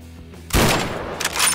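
Gunfire in FNAF Security Breach played in Garry's Mod: a loud, sudden burst of shots followed by a second cluster of rapid bursts a moment later, with no talk over them.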